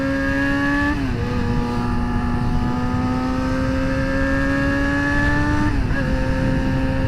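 A Yamaha FZ-07 motorcycle engine revs hard and steadily during wheel spin, with a strong droning tone that dips briefly twice as the revs shift, heard up close and alone.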